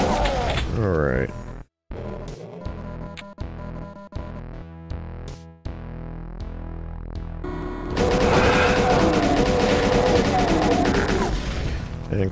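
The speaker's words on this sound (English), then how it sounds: "We will switch to the chain gun because we got some hit scanners in here" Chaingun in Doom 2 firing in rapid, continuous bursts, loud and close, layered with dense game sound and other weapon fire through the whole stretch.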